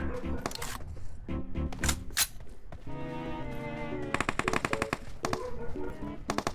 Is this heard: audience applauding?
no